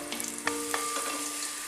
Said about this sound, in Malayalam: ഇനി ഈ മുന്തിരി ഈ നെയ്യിലകത്ത് നന്നായിട്ടൊന്ന് മൂപ്പിച്ചെടുക്കാം.